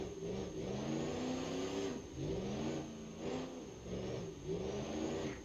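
A twin-turbo V8 diesel monster truck engine in the BeamNG.Drive driving game revs up and down in repeated rising and falling sweeps, a high turbo whistle hanging over the steady rumble.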